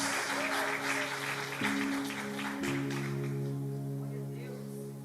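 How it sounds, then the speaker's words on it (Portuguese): A church congregation applauds during an evening worship service in Portuguese, with steady clapping spread under sustained organ or keyboard chords that shift pitch, the sound staying full and even before easing slightly toward the end. "Aplauda o nome do Senhor Jesus."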